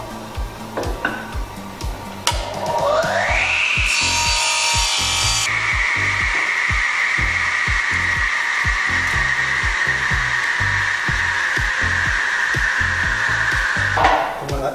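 A biscuit joiner cuts small wooden trim pieces for the sides of a decorative moulding. Its motor spins up into a loud, steady high whine that holds for about ten seconds, with a harsher burst of cutting near the start, then winds down.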